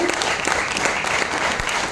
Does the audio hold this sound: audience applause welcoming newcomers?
yes